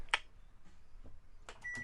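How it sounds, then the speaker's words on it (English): A microwave running with a low hum, punctuated by a few sharp electronic beeps, one near the start and a cluster toward the end. "that's just the microwave"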